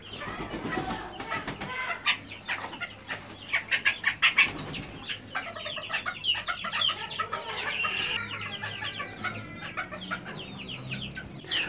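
Serama chickens cluck and chatter close by, with a hen just set down and a rooster courting a new female, bursts of clucking, squawks and wing flapping throughout, busy and irregular.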